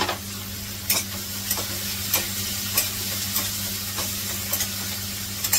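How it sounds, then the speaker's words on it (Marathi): Onion and tomato sautéing in a pan with salt and coriander for a brinjal dish: steady close sizzle under a low hum, broken by regular scraping stirs roughly every half second to second. "कांदा परतून घेते."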